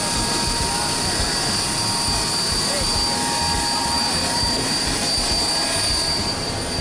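Steady engine drone heard from inside the cabin of a small private jet in flight, a constant loud whine with sustained high tones and a rumbling low end.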